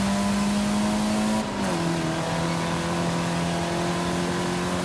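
A Lancia Stratos engine in Forza Horizon 5 drones at a steady pitch, dips briefly as the gear changes, then carries on at a constant loud level.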